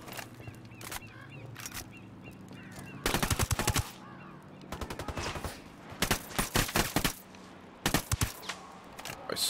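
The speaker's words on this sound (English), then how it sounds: "Taking fire from inside the watchtower." Rapid bursts of automatic gunfire from enemies firing out of a watchtower in the Ghost Recon Wildlands video game, several loud rattling volleys in quick succession over a low ambient background.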